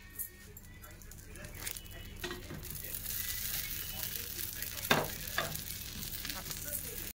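Dibba rotti fries in a pan, giving a steady sizzle with occasional stirring and scraping, while someone speaks over it.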